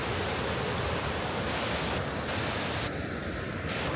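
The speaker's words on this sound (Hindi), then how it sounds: "पानी आ रहा है इधर से" Steady broadband rush of flowing water on the Gaumukh trek toward the source of the Ganga, loud and continuous throughout with no voices.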